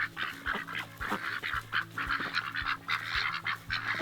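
Several ducks quacking and honking in overlapping bursts, close by and fairly steady, with a low background hum underneath.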